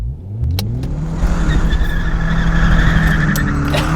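A VW Golf MK4 of about 150 bhp spins its wheels under hard acceleration, the engine revving up in a rising drone while the tyres squeal and skid loudly close by.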